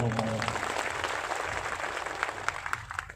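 Audience applause fills a live folk music program, a dense, steady patter of many hands clapping at close range with faint talk mixed in, tapering slightly toward the end.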